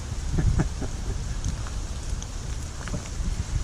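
Steady rain patters beside the River Ribble with gusty wind buffeting the microphone, a continuous wash of noise with scattered heavier drops.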